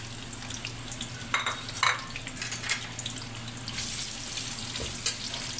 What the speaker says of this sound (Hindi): वो ऑयल हमारा गर्म हो गया, उसमें हम प्याज डालेंगे।